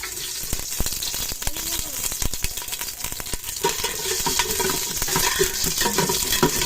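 Garlic fries in a cooking pot, a close, steady sizzle with clinks and stirring scrapes of a utensil against the metal, growing a little louder toward the end.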